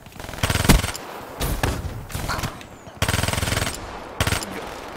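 Vesper submachine gun in Black Ops 3 fires in several rapid full-auto bursts, loud and close, separated by brief pauses.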